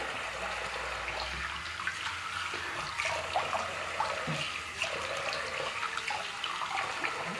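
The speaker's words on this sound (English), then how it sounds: "wash off with warm water." Water runs steadily from a tap, splashing and gurgling into a basin as soap is rinsed off with warm water after a shave, with no voices.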